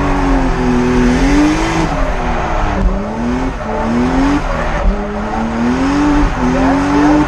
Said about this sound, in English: watch this clip right here of me drifting.